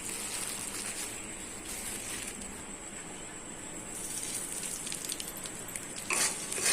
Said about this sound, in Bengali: সন্ধ্যাবেলা বৃষ্টি পড়ছে